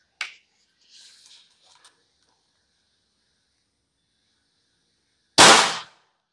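An air rifle fires a Rival Thunder pellet through a chronograph, a single sharp crack near the end after soft handling clicks and near silence.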